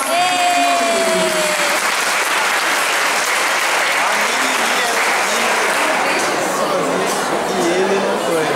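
An audience at a preschool Mother's Day event applauds the young children with steady, dense clapping that fills the room, with cheering and chatter mixed in and a voice speaking over it at the start.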